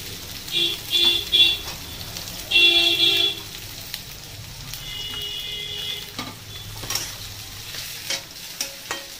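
Whole garlic cloves and chopped onion fry in hot oil in a pan for a Bengali vegetarian shukto. A low sizzle runs under occasional stirring knocks, with clear tonal bursts early on and a few sharp clicks near the end.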